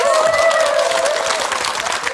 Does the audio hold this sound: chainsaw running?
no